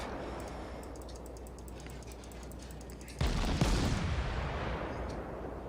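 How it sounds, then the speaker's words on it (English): A cruiser's guns fire at an enemy ship in World of Warships, a sudden heavy boom with a rumbling tail midway through, after a quiet stretch of game ambience. "And keep firing on this enemy ship."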